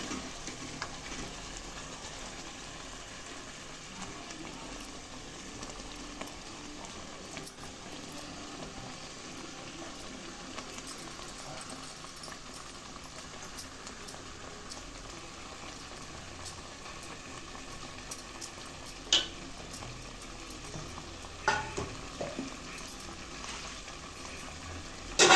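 Chicken frying in tomato paste and oil gives a soft, steady sizzle, quiet and continuous, with a few sharper stirring knocks toward the end and no voices.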